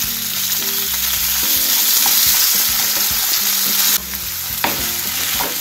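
Onion, potato and carrot sizzle and fry loudly in a pan for leftover-rice cutlets, with steady crackling frying noise and intermittent stirring scrapes throughout, no voices.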